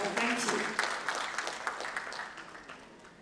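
Applause from an audience at an industry development council gathering, welcoming a speaker to the podium; steady clapping fades gradually over about three seconds with no talk over it.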